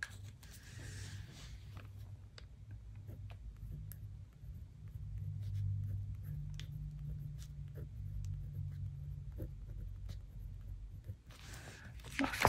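Pen writing in a paper planner, a soft steady scratching that runs continuously at close range over a low hum, with faint clicks scattered through it.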